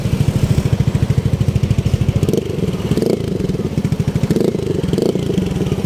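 A Yamaha NMAX V2 scooter engine runs just after starting, a loud close, fast, even putter that beats steadily throughout, with a slight change in tone partway through and no one speaking.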